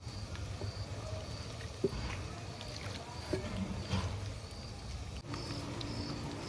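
Rice is washed by hand in water while onion fries on a village wood-fired stove, with continuous sloshing and patter and a steady sizzle-like hiss underneath.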